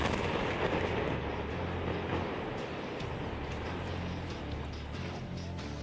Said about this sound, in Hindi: लेबनान में गिराए गए इस बम पर नेतन्याहू के दस्तखत थे।